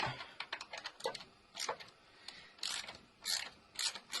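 A nut being started on its thread by hand before tightening, heard as close, faint metallic clicks and short scraping turns in small bursts.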